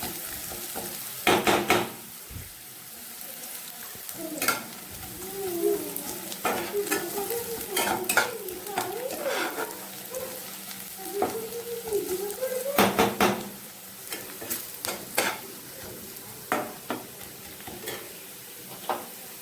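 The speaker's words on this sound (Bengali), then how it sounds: "দুটো পেঁয়াজ আমি কড়ার মধ্যে দিয়ে দিলাম, দিয়ে এবার একটু ভেজে নেবো" Two onions fry in oil in a kadai as a spatula scrapes and stirs them, a steady sizzle broken by sharp repeated metallic clinks against the pan, close and without talking.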